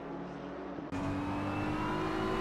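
Race car engines roar in a sim racing game at Suzuka during a six-hour endurance event, a steady engine drone that cuts abruptly to a louder, brighter onboard engine note that holds strong to the end.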